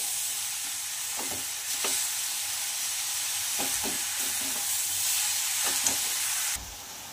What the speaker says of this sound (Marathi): तर मी 1 वाटी साखर घालत आहे, तुम्ही तुमच्या गोडीनुसार कमी जास्त करू शकता आणि छान याला मिक्स करून घ्यायचं आहे।